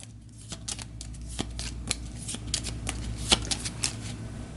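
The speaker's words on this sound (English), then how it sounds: "so we're going to shuffle everything in Furion's discard pile" Board game cards for Astro Knights, a boss's discard pile, riffled and shuffled in a rapid run of crisp, papery flicks and snaps, close and fairly quiet, with no talk over them.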